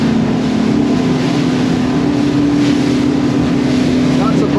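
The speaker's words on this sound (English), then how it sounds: "Lots of boat traffic out here." Motorboats run near Tavernier Key during a busy holiday weekend, a steady engine drone with a low hum that holds throughout, mixed with wind buffeting the microphone.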